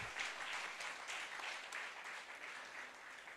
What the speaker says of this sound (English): Can I get a round of applause from the audience, please?